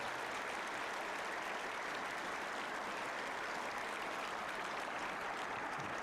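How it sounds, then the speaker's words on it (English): An audience at a high school Veterans Day ceremony applauds Vietnam veterans, a dense, continuous roar of clapping from a large crowd heard at a distance, sustained without letup. "Let's give them a round of applause today."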